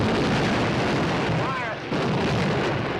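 Booming artillery fire from a 1944 wartime offensive, a dense, rumbling, distorted roar of guns on an old film soundtrack, with a brief dip in the middle.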